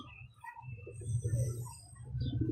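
A female pigeon coos softly in low, throaty murmurs, close by, with faint bird chirps and background noise.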